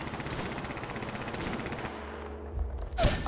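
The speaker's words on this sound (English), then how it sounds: "Opening fire on the enemy." Automatic gunfire in Apex Legends on PS4, a rapid dense burst of shots that stops abruptly, followed by a brief game sound near the end.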